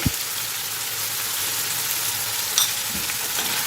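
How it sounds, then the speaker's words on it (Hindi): A steady sizzle of garlic and salt frying in a hot pan, with a soft stir or clink near the start and again midway. "अब इसे फिर अच्छी तरह भून लेंगे"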